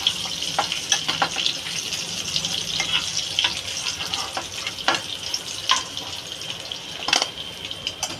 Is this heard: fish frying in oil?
yes